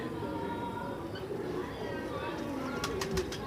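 Pigeons coo softly at a busy pigeon market in Multan, with low murmuring calls and a few brief chirps near the end over a faint background.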